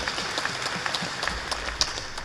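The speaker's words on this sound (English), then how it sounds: "Clap for him." Applause for a memorial tribute to a dedicated family man, a dense steady patter of many hands clapping together, fairly close and continuous throughout without talk.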